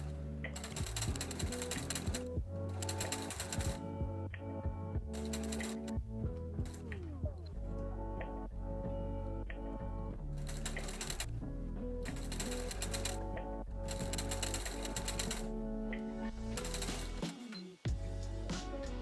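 Sewing machine running a long line of stitching along a skirt, a fast rhythmic mechanical clatter in repeated bursts with short pauses between, close and steady.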